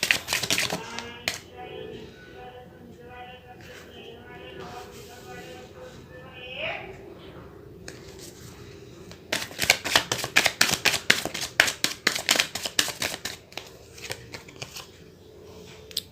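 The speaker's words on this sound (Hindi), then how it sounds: "जब तक मैं कार्ड शफल करूं" Tarot cards handled and then shuffled, soft rustling at first, then a long run of rapid crisp riffling taps close by, with a low voice speaking in the background during the quieter opening.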